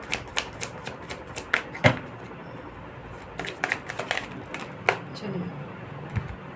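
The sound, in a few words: shuffling tarot cards for a reading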